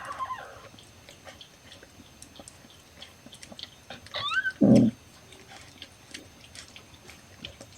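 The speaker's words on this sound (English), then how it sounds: "after all that chewing she's been doing and there's still that much placenta left" Buttercup, a rescue mother cat who has just given birth, chews on placenta with faint, wet, irregular clicks, then makes a short louder thump near the middle; no one speaks.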